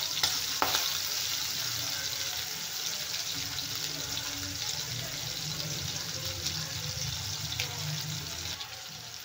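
Prawns fry in a kadhai with a steady, broad sizzle that holds loud and close the whole time, with a few faint clinks from a utensil and no voices.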